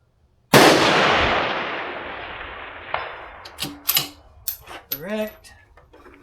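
A single rifle shot fired toward a 600-yard target rings out sharply, then a long decaying echo rolls away, followed by a few faint metallic clinks and a brief voice.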